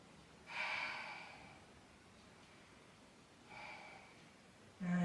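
Two slow, deep breaths are taken during a Pilates back exercise, one near the start and another a few seconds later, soft and close in an otherwise quiet room.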